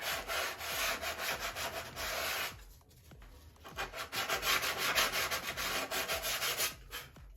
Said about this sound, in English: Now I'm going to get a piece of sandpaper. Sand this a little bit.